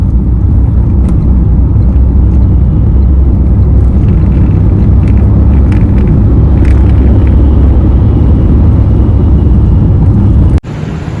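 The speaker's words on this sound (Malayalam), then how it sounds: "ഇപ്പൊ നമ്മളൊരു ടണലിൽ കൂടെയാണ് യാത്ര ചെയ്യുന്നത് കേട്ടോ" A car drives through a road tunnel, filling the space with a loud, dense, continuous roar and low rumble that stays steady throughout before a sharp knock near the end.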